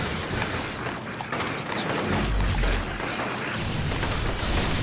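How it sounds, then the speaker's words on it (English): Enemy gunfire in the inFamous video game rattles on steadily with many overlapping shots, alongside a heavy low boom near the middle and no speech. "And somebody else is shooting at me, wherever they are."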